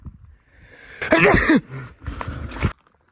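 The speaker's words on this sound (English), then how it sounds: "hold on, I'm gonna sneeze" A single loud, close sneeze with a sharp voiced burst, preceded by a quiet breathy build-up and followed by some low handling noise.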